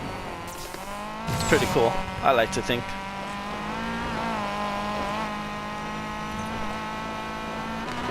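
A front-wheel-drive car in the racing game Need for Speed Payback, its engine droning steadily with a brief squeal of tires early on, while someone talks over it.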